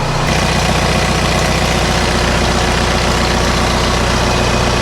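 A VW Jetta with the ALH diesel engine idles right after a camshaft replacement, giving a loud, steady, close-up rumble with an even low throb and no voices.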